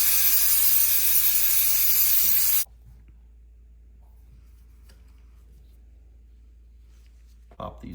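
A can of brake cleaner blasts a long loud hiss onto a Honda Z50 oil screen, then cuts off into near silence, and a short burst of compressed air follows at the end.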